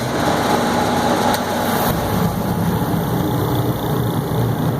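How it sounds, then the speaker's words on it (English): An oil-fired forced-air space heater runs with a steady, even whirring drone and a fan-like hiss, constant and moderately loud throughout with no voices. "And we'll go ahead here and run it. You'll hear how quiet it is."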